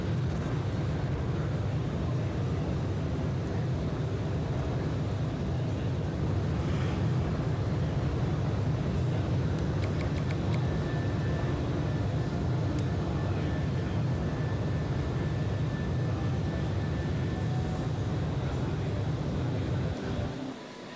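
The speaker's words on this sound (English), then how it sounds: "This burn is again 6 minutes long." A rocket's second-stage engine burning in the video game SimpleRockets 2, a steady, loud, broadband roar that holds without a break and drops off at the very end.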